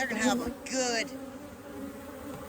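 Honey bees buzz around an opened hive during a colony split, a steady close drone running beneath a voice.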